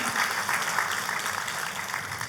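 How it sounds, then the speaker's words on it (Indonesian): A church congregation claps together, a dense, even wash of applause filling the room for the whole short stretch, with no speech over it. "Tepuk tangannya yang paling meriah buat Tuhan kita"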